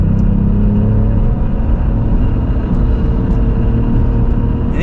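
A modified turbocharged Cadillac CT4-V Blackwing on track tyres driving on a race track, with a loud, steady engine drone and deep rumble that holds constant throughout, heard close up with no voices.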